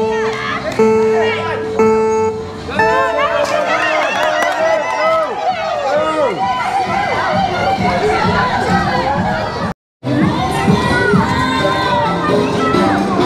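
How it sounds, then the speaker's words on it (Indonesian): A crowd shouts and cheers loudly at the final of a children's pushbike race for two-to-three-year-olds in Kuantan, with children's excited shouts and busy chatter, broken by a brief drop near the end. "bagi tepukan untuk final ini"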